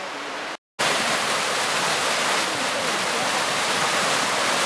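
A mountain stream waterfall on the West Prong of Hickey Fork roars in a loud, continuous broadband rush, close and steady, after a brief cut at the start.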